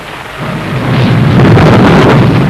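Heavy rain pours steadily while thunder rumbles and builds, the roar growing louder after the first half second and holding at full strength to the end, with no voices.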